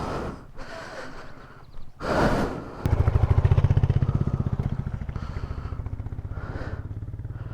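A Hero Xpulse motorcycle climbs a hill at full throttle, its engine a loud, steady thumping drone that begins after a burst of wind and breathing noise close by.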